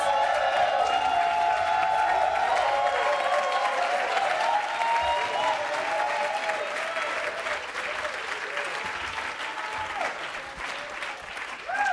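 A conference audience applauds steadily for a woman honored at a women's leadership celebration, the dense clapping from a large crowd continuing strongly throughout and tapering slightly near the end, with faint voices mixed in.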